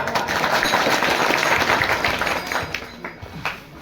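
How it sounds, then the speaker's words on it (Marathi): An audience at a village bharud folk performance applauds in dense, continuous clapping that thins into scattered, separate claps near the end. "टाळ्या वाजवा"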